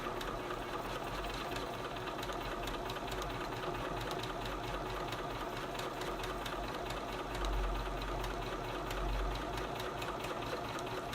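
A sewing machine stitches steadily through free-motion quilting, its rapid needle pulsing in a continuous mechanical chatter with a low motor hum for the full stretch, no voices over it.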